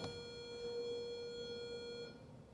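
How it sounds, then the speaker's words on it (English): A timer bell chimes once with a clear, sustained ringing tone that lingers for about two seconds before cutting off, heard alone and fairly faint. "there is the bell"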